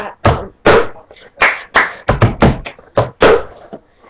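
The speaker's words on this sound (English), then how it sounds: "you clap again, grab the cup on its side, and bring it up and hit your hand" Rhythmic claps and hollow cup taps against a hard surface and hand, repeating in a steady pattern of sharp hits.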